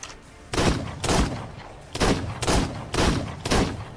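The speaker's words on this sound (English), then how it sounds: "We'll just mag dump in the dude's head" Gunfire from a magazine being emptied in Ark Survival Evolved, loud bursts of rapid shots in several separate volleys across a few seconds.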